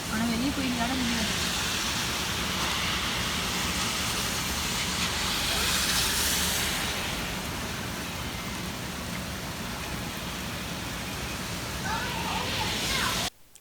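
Heavy rain pours during a flood alert at 6:30 in the evening, a dense, constant hiss of broadband noise that keeps up at steady strength for over thirteen seconds, with a faint voice briefly heard near the start and end.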